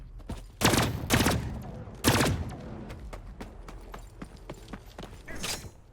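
Shotgun fire in the video game The Cycle: Frontier, a few sharp, loud blasts early on followed by quieter clicks and shots further off, with no talking.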